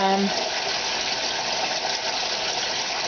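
Hot water runs at full heat from a kitchen tap in a steady, continuous rush of moderate loudness that holds without a break.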